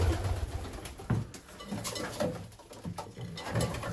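Pigeons in a breeding loft coo in low, repeated throaty phrases close by, overlapping with faint rustling and shuffling.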